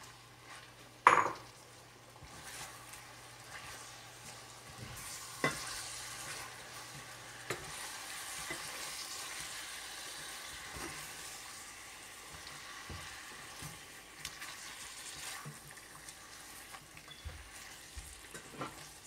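Chicken karahi frying over medium flame as masala is stirred in, a steady close sizzle with spoon scrapes and a sharp clank against the pan early on, no talk.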